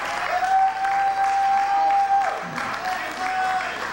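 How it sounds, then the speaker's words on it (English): At a Miss Venus pageant, the audience applauds the contestants with steady, moderately distant clapping, while a sustained tone sounds over it for a few seconds. "Give all the contestants a round of applause."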